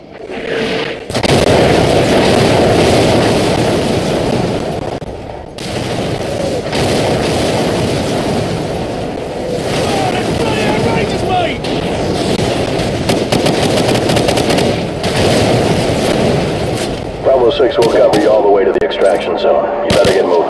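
Artillery strike explosions and gunfire in Call of Duty Modern Warfare, a dense, loud, continuous barrage of booms and shots running for most of the stretch, with brief pauses and a crackling burst near the end.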